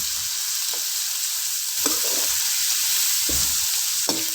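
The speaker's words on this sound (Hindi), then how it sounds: "अब इसको मैं अच्छे से मिक्स करूँगी" Okra in a frying pan is stirred with crushed chilli and half a teaspoon of turmeric, making spaced scraping strokes over a steady close sizzle of hot oil, with no voices.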